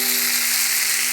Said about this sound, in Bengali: একটু জিরে ছিটিয়ে দিলাম। দিয়ে এবার কষিয়ে নিয়ে জল দিয়ে দেবো।